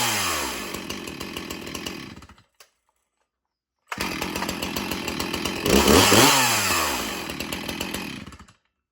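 Stihl Farm Boss chainsaws, an MS 291 and an MS 361, running close and loud with a buzzing two-stroke drone, revving up and down, cutting out briefly, then restarting and rising to a higher rev.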